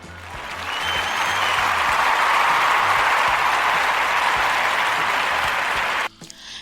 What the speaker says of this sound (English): And I'm gonna clap on that one.